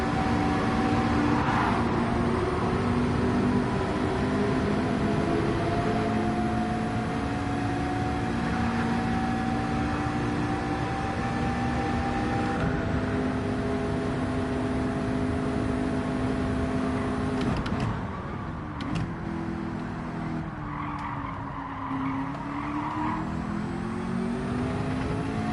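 A big, wide car's engine drones steadily while driving in Gran Turismo 7, its pitch rising and falling through gear changes and corners. The engine sound stays continuous and prominent, with a dip and shift in tone past the midpoint.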